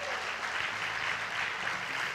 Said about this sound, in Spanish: Y yo quiero que usted le dé un aplauso al Señor por eso.